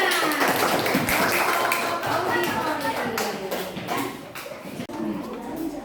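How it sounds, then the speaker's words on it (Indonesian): Children in a primary school classroom clap their hands, giving a close, busy burst of uneven claps that runs throughout, with voices mixed in. "Tepuk tangan"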